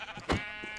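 A single short sheep bleat from a Minecraft sheep, fairly faint and close, heard alone without talk.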